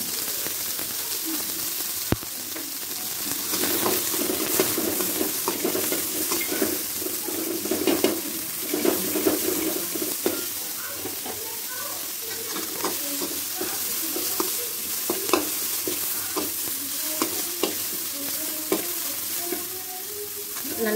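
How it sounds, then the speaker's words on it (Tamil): Food fries in hot oil toward golden brown, a steady sizzle broken by repeated spatula scrapes and stirring clatter against the pan over about twenty seconds, with no talking. "நல்லா கோல்டன் ப்ரவுன் வர வரைக்கும் வறுத்துக்கோங்க"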